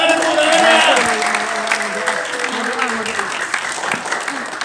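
Church congregation applauding during a sermon, a broad wash of clapping with a sustained tonal voice or music line running beneath, steady and fairly loud throughout.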